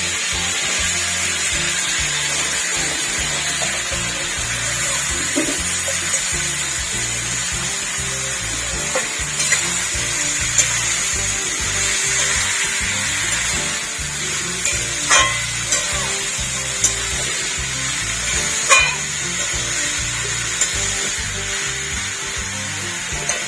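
Chopped bottle gourd goes into hot spiced oil in a pan, giving a steady loud sizzle and frying hiss, with a few clinks and scrapes of stirring over it.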